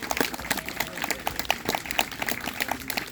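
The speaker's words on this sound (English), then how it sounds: "And clap for our percussion staff." Audience applauding percussion staff at a high school band awards ceremony, a steady patter of many hands clapping at close range, continuous throughout.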